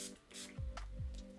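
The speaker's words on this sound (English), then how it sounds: "I'm actually gonna spray it with some setting spray so that it picks up glitter a bit better." Setting spray misted onto a flat makeup brush during a glitter makeup application, heard as a few short breathy bursts close to the microphone, with no talking over them.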